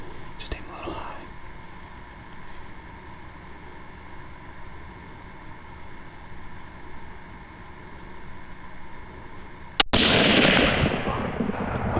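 A hunting rifle fires at a buck in Kansas: one sudden loud, close crack near the end, then a burst of rushing noise. Faint whispering comes earlier over a quiet outdoor background.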